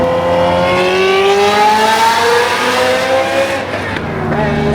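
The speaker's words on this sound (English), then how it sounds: "355 with that Capristo Tubi Larini mongrel of an exhaust is just amazing." A Ferrari 355 fitted with a Capristo and Tubi exhaust revs hard and accelerates in second gear, loud and close, its rising engine note climbing steadily before easing off near the end.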